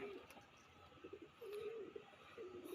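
Domestic native-breed pigeons kept in a village, cooing softly after feeding, with a few low rolling coos heard faintly at a modest distance.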